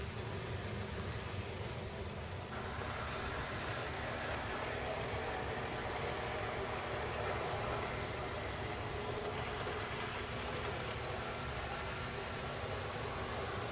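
A model train with a cleaning car runs continuously around a home layout, giving a steady whirring rumble at even loudness throughout with no speech.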